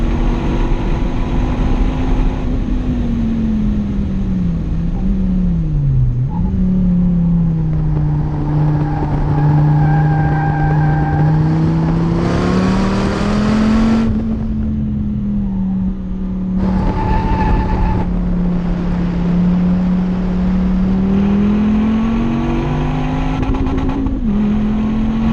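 A manual Dodge Viper ACR accelerating hard, its engine roaring loud and close with rising pitch sweeps and sharp drops at each gear change, sustained throughout.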